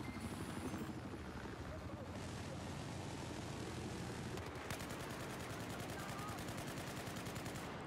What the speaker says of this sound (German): Dieser scheiß Heli, der macht mir zu schaffen.